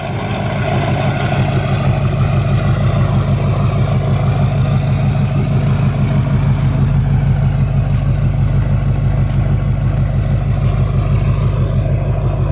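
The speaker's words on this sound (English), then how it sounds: "Haven't had the old truck start up in a while." A diesel truck engine idles close by, a loud, steady low rumble that runs on without a break.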